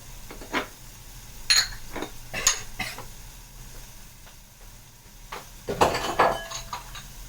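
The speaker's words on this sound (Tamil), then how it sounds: "இப்போ லிட்டு போட்டு மூடிடலாம்." A metal lid set onto a pot of okra cooking in oil, with a few sharp clinks and clatters of metal on metal over a faint sizzle, the loudest clang near the end.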